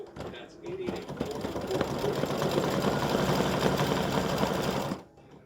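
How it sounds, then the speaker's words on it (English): A sewing machine runs a triple stitch, top-stitching straps on an appliqué project, a fast steady mechanical whir that starts after a few slow stitches, holds for about three seconds, then stops abruptly. "it's time to stitch the top stitching on the straps"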